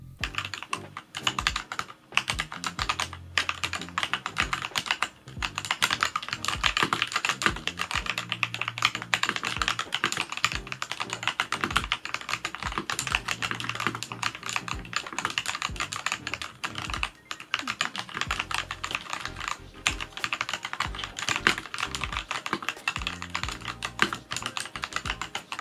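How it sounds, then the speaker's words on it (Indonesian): Rapid, continuous typing on Eric's 60% mechanical keyboard: dense, steady key clacks close up for the whole stretch, with no voices. "berikut adalah typing test dari keyboardnya si Eric"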